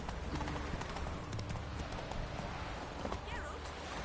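Roach, Geralt's horse in The Witcher 3, gallops off with rapid, close clip-clopping hoofbeats over a rumbling game soundtrack, with a brief whinny-like cry near the end.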